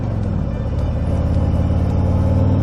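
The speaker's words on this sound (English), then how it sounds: "let that truck go by." A truck passes on a road beside a cyclist on a spring ride, its loud, steady engine rumble and tyre roar filling the whole moment with no one speaking.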